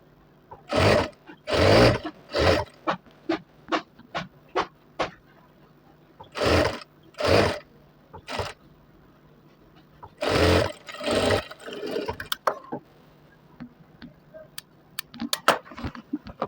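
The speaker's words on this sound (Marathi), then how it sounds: "शिलाई आपली राहिलेली कंटिन्यू करून घ्यायची" Sewing machine stitching a shirt, running in short bursts separated by pauses: several quick stitching runs, then longer spaced bursts, ending with light clicks and rattles, close up with no talk.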